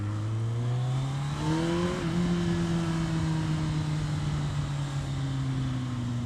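Kawasaki Ninja ZX-14 sport motorcycle fitted with an Akrapovic exhaust, pulling hard under steady acceleration with a loud, close engine note climbing through the gears over about six seconds, with no voices.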